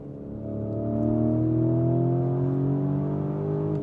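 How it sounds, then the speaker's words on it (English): A Lamborghini Urus SE hybrid SUV with all-wheel drive accelerates hard through a canyon, its engine note climbing steadily in a loud, sustained rising drone with no talk over it. "this vehicle is surging forward"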